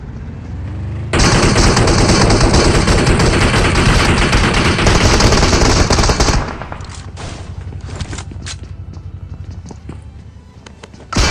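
Dense automatic gunfire hammers a BRDM armored vehicle in the mobile shooter BGMI, loud and continuous for several seconds, then cuts to scattered lighter shots, impacts and footsteps.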